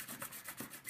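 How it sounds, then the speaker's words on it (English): Hand sanding an acrylic piece: rhythmic back-and-forth abrasive strokes, roughly four quick passes, close and steady with no talking. "Sanded some more."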